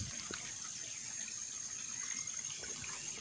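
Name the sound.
flowing water of a small stream or ditch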